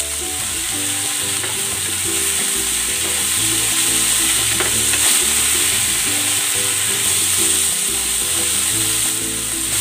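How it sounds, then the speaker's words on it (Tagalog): Bitter gourd and black beans sauté in a hot pan, giving a loud, steady sizzle and crackle with occasional stirring scrapes throughout, close and continuous with no voices. "Igigisa ko na rin itong ampalaya."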